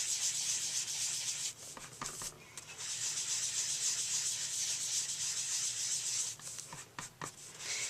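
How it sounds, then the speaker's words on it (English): A fingertip rubs steadily across inked embossed paper, giving a soft, close, continuous scratchy friction with a few short breaks in the motion, quiet and with no talking. "how I do that is I rub my finger on it to make sure all the ink is off"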